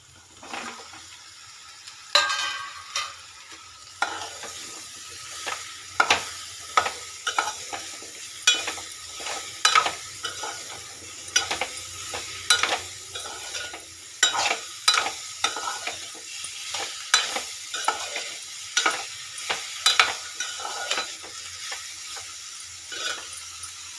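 Bottle gourd pieces fry and get stirred in hot oil in a pan, with a steady sizzle broken by repeated scraping and stirring strokes throughout, close and moderately loud, with no talking.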